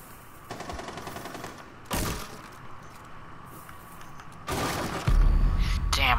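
Gunfire in the Rainbow Six Siege video game comes in several separate rapid bursts, loud and sharp, including a heavier close burst near the end, with a quiet background between volleys.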